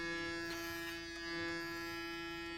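Electric hair clipper buzzing steadily and close, its motor hum holding an even pitch throughout while cutting a French crop in a barbershop, with slight shifts as the blade is rocked through the hair.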